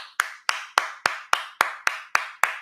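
Nine sharp claps spaced evenly in a steady rhythm, close by and crisp, cheering a podcast guest, each clap dying away quickly before the next.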